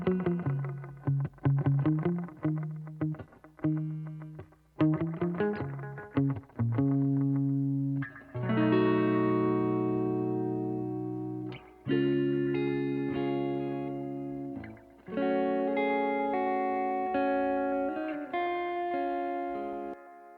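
Guitar chords played through a Fuse Audio Labs Bucket-500 analog delay: plucked notes, then strummed chords that ring out with repeating echoes and long, lush trails filling the gaps.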